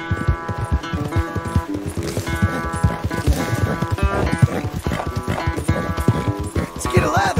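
In the video game Red Dead Redemption 2, a horse's hooves clip-clop in a steady rhythm close by, loud and continuous, with in-game music tones running underneath.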